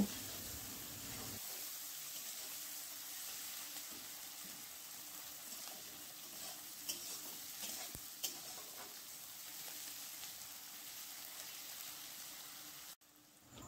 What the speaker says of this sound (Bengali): পেঁয়াজটা একটু লাল করে 2 মিনিট ভেজে নেব